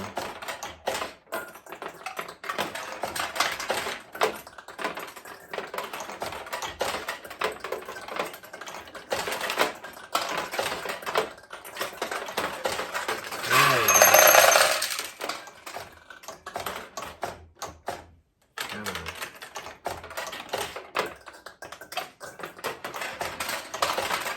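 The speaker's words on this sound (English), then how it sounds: "Those are the balls dropping from the upper to the middle to refill it." Metal balls clatter and tick inside a restored 1969 Nishijin single-shot vintage pachinko machine as it refills, a dense rattling stream with a brief louder rush midway.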